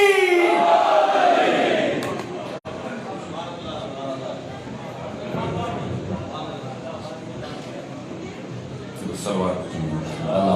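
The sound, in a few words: crowd answering the slogan Naara-e-Haidari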